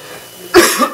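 A single sharp cough bursts out of a quiet room, followed by a softer second cough a moment later.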